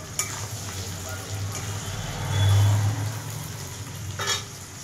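Onions and potatoes frying in a pan with a pinch of salt give a steady, close sizzle and crackle, swelling briefly louder midway with faint stirring scrapes and no talk.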